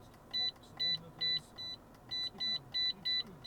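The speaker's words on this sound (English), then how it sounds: "I can attach the left one to make the buzzer louder or quieter" The buzzer of a Target Blu Eye 2 driver device beeps repeatedly in an even rhythm, about eight short tones, over a low background hum.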